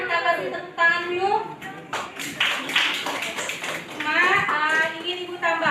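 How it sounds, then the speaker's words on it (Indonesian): Students in a classroom give a group a round of clapping, a brief burst in the middle, with a teacher and children talking before and after it. "Kita kasih tepuk tangan dulu."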